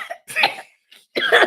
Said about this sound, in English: I'm coughing. I'm trying not to cough in the mic.